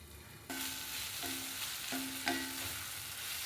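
Tomatoes sautéing in a pan for spinach dal, an even sizzle that starts abruptly, with several short scraping stirs and no voices.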